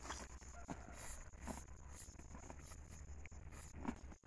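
A cow moos softly at a distance, a few low calls over quiet outdoor background noise.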